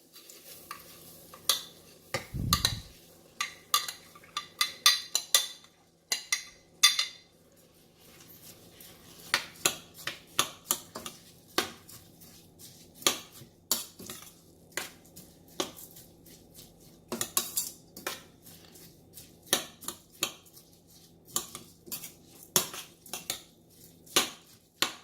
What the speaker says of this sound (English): we are going to add the basmati rice now.